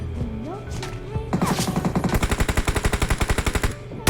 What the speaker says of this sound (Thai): ผมยิงเจ็บหนักแล้ว